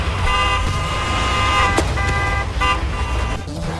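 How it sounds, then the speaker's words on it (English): Truck horns honk in the video game Clustertruck, a loud layered blare of sustained tones over steady game noise, with sharper horn bursts near the middle and toward the end. "The honking!"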